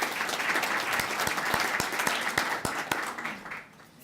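Audience applause for a student of the month and her parents at a high school recognition event, steady mid-level clapping from a room of people, with a few sharper individual claps standing out before it fades near the end.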